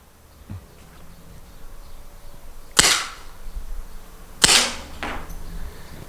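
Salt Supply pepper spray gun firing outdoors: two sharp, loud pneumatic cracks about two seconds apart, each with a brief hissing tail, over quiet background hum and faint insect-like buzzing, no talk.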